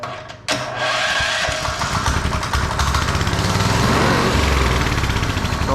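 A TrailMaster MINI XRX go-kart engine, run off a 2-amp supply with the choke on, catches after a brief crank and settles into a loud, steady, buzzing small-engine run up close.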